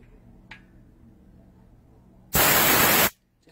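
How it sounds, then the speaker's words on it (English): Gas hisses steadily through a tank regulator after the valve is opened, a loud, close, broadband rush lasting under a second before cutting off abruptly, with a faint click earlier and low room hum throughout. "We'll listen for a little bit of a sound here, so that way we know the air and the pressure is coming through."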